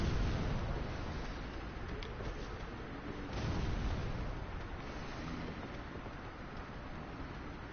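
Bomb explosions in a video game roll out as a continuous, loud rumbling barrage with overlapping booms and a swell of blasts midway, no voices over it.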